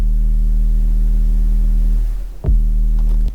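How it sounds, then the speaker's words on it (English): Unprocessed 808-style sub bass from a Serum patch: a deep, sustained low tone droning steadily, dipping briefly near the end before a fresh hit swells back in, loud and alone with no other sounds. "It's the 808 I use in every single tune."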